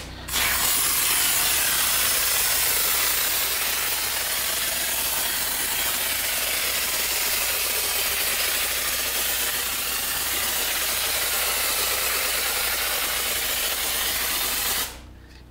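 A spray gun applies Polynor polyurethane foam insulation inside a sheet-metal garage, a loud continuous hiss that starts abruptly, holds steady for about fourteen seconds and cuts off sharply, close and without talk.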